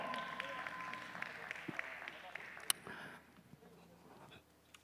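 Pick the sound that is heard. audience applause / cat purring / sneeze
audience applause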